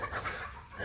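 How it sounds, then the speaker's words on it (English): Chickens cluck loosely in a yard for under a second: faint, close-ish calls over a soft outdoor background, with no one speaking. "And my neighbor's chickens are in my yard for some reason."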